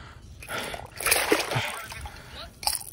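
A large snook being released from a paddleboard splashes and sloshes in the water, a sustained close splashing burst with a louder splash near the end.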